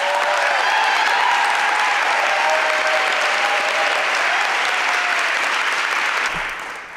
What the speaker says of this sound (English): Please clap it up for Sandra Johnson.